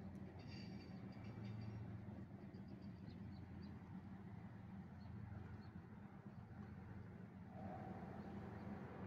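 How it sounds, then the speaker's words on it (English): A Union Pacific train rumbles steadily along the rails in the distance on a rainy day, a faint continuous low rolling noise with occasional soft metallic squeaks. "actually hear the wheels rolling on the rails over there."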